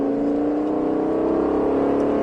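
An Aston Martin Vantage engine drones steadily on a race track with rising pitch as it accelerates, loud and close, with no talking over it.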